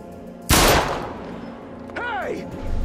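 A single loud gunshot rings out in the horror game Little Hope, a sharp broadband blast that decays over a moment before a voice starts talking.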